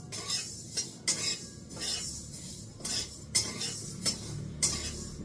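Panch phoron and black cumin dry-roast in a pan while a spoon scrapes and clinks against the metal in a loose rhythm of about six sharp taps over a soft background rustle, no talking.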